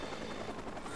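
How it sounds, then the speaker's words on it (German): A helicopter in the video game Watch Dogs, a brief steady rotor drone with a dense choppy throb, fairly close and uninterrupted for about a second. "Wo ist der Helikopter?"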